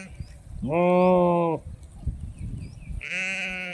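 Garole sheep grazing in a field bleat twice, loud and close, each a long wavering cry, with soft rustling and faint background noise between the calls.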